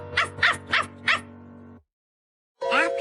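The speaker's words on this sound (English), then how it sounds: "he has such a big bark for a little tiny puppy" A small puppy gives four quick, sharp barks in a row, close and loud, then falls silent before a short whimpering yip at the end.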